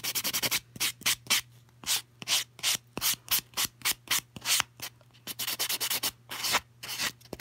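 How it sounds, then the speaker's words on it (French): Buffer block rubbing gel powder nails to take off the shine, a rapid series of close, short scratchy strokes in a brisk, uneven rhythm over a low steady hum. "Fait que je vais juste aller enlever la brillance parce que je vais aller mettre ma couche de finition. Donc, je vais aller boffer."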